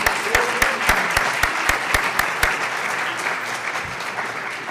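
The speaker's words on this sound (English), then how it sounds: "let's give them a round of applause for coming out" An audience applauds a panel of presenters at a talk on living with schizophrenia, a steady wash of clapping with sharp individual claps standing out early and the sound thinning slightly toward the end.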